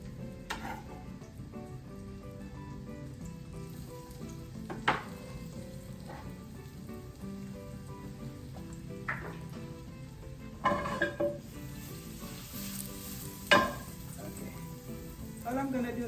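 Vegetables with butter and garlic sizzle steadily in a pan, a close, constant frying hiss with an occasional clink of a utensil against the pan. Quiet voice-like tones run faintly beneath.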